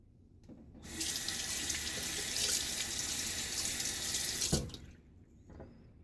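Tap water gushes steadily into a sink for a shaving rinse, a bright hiss lasting several seconds before the flow cuts off sharply, with no talking.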